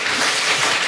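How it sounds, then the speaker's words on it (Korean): A short burst of audience applause at a seminar on childhood epilepsy and low-carb diet: dense, even clapping from a crowd, moderately loud and continuous. "감사의 박수 잠시 좀 드리고요"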